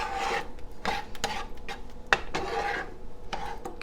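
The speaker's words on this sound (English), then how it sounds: "my mother heard me scraping this pan" A metal cooking pan being scraped while making Frito chili pie, with repeated rasping strokes in an irregular rhythm and one sharp clank, close and moderately quiet, no talking.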